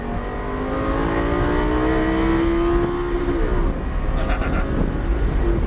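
Car engine on a race track at Motorsport Ranch, pulling steadily with a rising tone as it accelerates, lifts briefly off the throttle, then returns to power, loud and close throughout.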